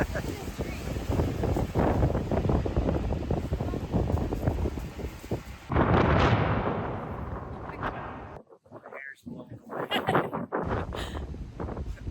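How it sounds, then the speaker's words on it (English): Gusty wind buffets the microphone with low, rumbling bursts; the roar drops out briefly and returns, with faint voices mixed in. "It's a little windy"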